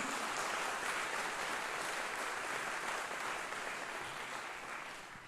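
A church congregation applauds the name of Jesus during a sermon, a steady, fairly distant wash of clapping that holds evenly and fades slightly at the end.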